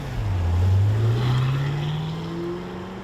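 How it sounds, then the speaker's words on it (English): A 2022 Cadillac CT5-V Blackwing V8 drones loudly from close by, its engine note rising steadily in pitch under acceleration, then easing back slightly toward the end. "Most of the time, the 8-cylinder was the only soundtrack playing."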